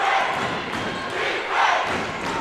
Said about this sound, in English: A huge defense chant reigns from the crowd on the Lehman side of the court.